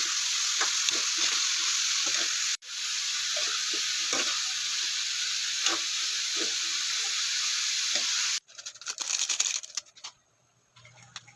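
Ground pork giniling and broccoli sizzle steadily in a hot pan for about eight seconds with occasional stirring scrapes, broken by one brief dropout, before the sound turns to a short clatter and fades near the end.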